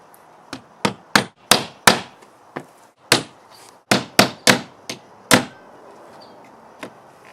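Used nails hammered into wood while building a chicken coop, a dozen or so loud, close hammer blows in uneven bursts with short pauses between, no voices.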